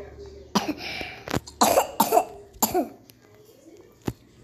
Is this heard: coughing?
yes